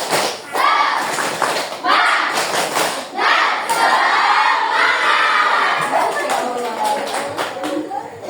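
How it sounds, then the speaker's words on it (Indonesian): Children at an Islamic boarding school loudly perform a rhythmic spirit clap chant, sharp group claps and shouted voices in a lively crowd, close and energetic throughout. "Tepuk semangat."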